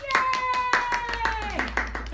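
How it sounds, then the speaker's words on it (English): A few people clap in a loose, fairly regular rhythm for someone at a style show. The claps are close and distinct, with a voice and a steady tone running underneath. "Let's give her a round of applause."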